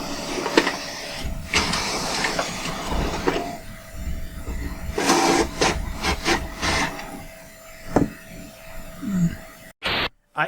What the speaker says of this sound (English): Ignore the printer in the background.